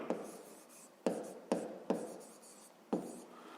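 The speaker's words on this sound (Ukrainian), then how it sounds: "почнемо, пишемо перше" A pen writes out a fifth-grade math solution by hand on paper: five or six distinct scratchy strokes, each starting sharply then trailing off, spaced irregularly and heard close and quiet.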